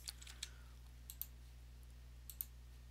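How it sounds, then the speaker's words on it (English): Light, sparse keystrokes tap on a computer keyboard, a few quiet clicks in small clusters over a faint steady hum. "You can also type in Arduino on your start menu."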